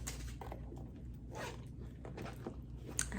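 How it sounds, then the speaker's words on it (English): Small zipper on the inside pocket of a Brandon Blackwood handbag pulled open, giving a few soft, close scratchy zips over quiet room noise. "Like, this is the zipper and it opens here."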